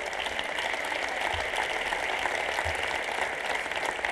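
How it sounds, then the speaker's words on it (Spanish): An audience at an awards gala applauds for Belén, a steady wash of clapping from a crowd, moderately faint and continuous with no talking over it. "Venga, un aplauso para Belén."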